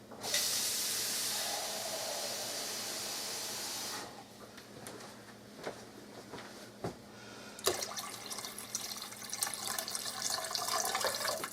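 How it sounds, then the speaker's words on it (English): Tap water runs steadily into a pressure cooker of pinto beans for about four seconds, then stops, leaving scattered clinks and bumps before a second softer spell of running and splashing water. "so I'm going to add a little bit more water"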